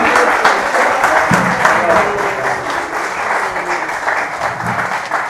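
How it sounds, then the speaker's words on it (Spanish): A lecture audience applauds at the close of a study session, a steady, moderately loud patter of many hands that carries on throughout, with a voice speaking briefly over it. "No hace falta aplausos."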